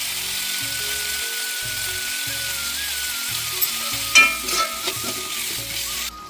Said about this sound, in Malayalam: ഇനി ഇതൊന്ന് നന്നായിട്ട് വഴറ്റി കൊടുക്കാം.